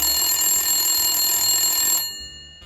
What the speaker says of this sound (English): Max reaches for the phone.